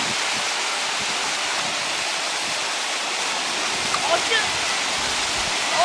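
Splashing water from small children's fountains makes a constant broadband rush, like a steady cascade heard close and fairly loud throughout.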